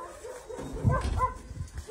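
At an animal shelter on a rainy day, dogs give a few soft barks and whimpers, fairly faint and mixed with low background rumble.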